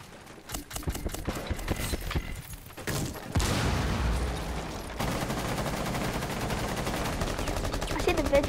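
Rapid automatic gunfire in Rainbow Six Siege, loud and close, running in continuous bursts that thicken into a steady rattle in the second half after sparser shots early on.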